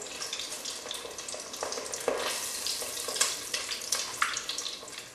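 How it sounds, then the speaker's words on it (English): Boudin balls frying in hot grease give a steady close crackling sizzle with scattered sharp pops, continuous and fairly loud throughout. "it's time to take our boudin balls out of the grease"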